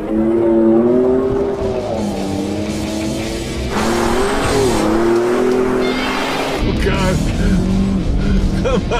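A Hyundai Santa Cruz compact truck with a dual clutch transmission launching in a drag race, its engine droning loudly and rising in pitch, with a sudden shift near the end and voices faintly underneath.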